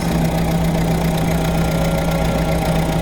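A 1927 Ford Model T engine running steadily while the car cruises along, a continuous low droning hum with a steady tone, close and fairly loud throughout with no talk.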